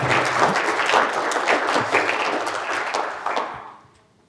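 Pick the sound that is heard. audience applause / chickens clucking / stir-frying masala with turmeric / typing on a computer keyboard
audience applause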